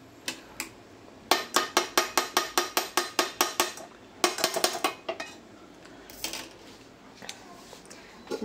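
A cooking pot is handled on a home kitchen stove with rapid runs of sharp metallic clinks and scrapes, a regular burst of knocks followed by scattered rattles and taps at moderate volume, no talk.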